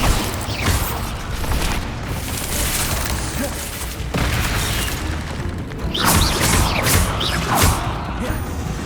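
Blasting spell in Hogwarts Legacy, heard as loud, dense bursts of crashing debris and booms layered over continuous battle noise, with a fresh cluster of sharp impacts near the end.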